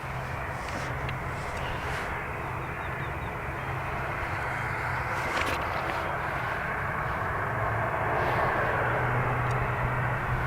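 An ATR turboprop airliner at Dublin Airport produces a steady, loud engine drone with a low hum underneath, continuous for the whole stretch and slightly rising toward the end.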